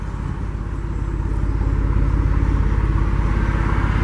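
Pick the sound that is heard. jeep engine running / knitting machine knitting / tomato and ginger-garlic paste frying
jeep engine running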